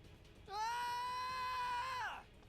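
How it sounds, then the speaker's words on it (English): A character in Final Fantasy X lets out a single sustained scream lasting under two seconds, loud and steady before breaking off, set against quiet game background sound. "Why are you screaming?"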